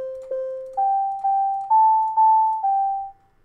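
Seven pure electronic Windows API beeps form a simple stepwise melody, rising and then settling back to G, each note evenly spaced and fading out cleanly.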